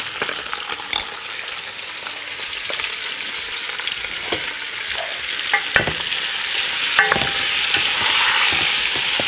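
Meat sautéing in a pan with black pepper, a steady close sizzle and frying hiss with occasional stirring scrapes, growing slightly louder, no talking.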